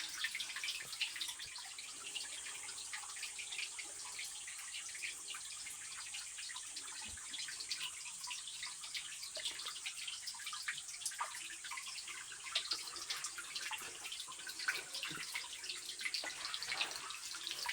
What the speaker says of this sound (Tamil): இந்த தண்ணியோட சத்தத்தை கேட்குறதுக்கு